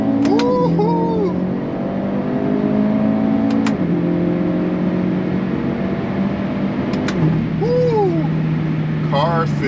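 A Hyundai Elantra N on a stage 2 93 octane tune pulls hard in second gear from 4,000 rpm, its engine note climbing with sharp gear-shift breaks and pops, heard from inside the cabin.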